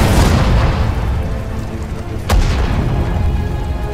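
Heavy artillery fire in the World War II strategy game Sudden Strike 4, desert war setting: deep booming blasts with a sharp crack midway, rumbling continuously and loud with no voices over it.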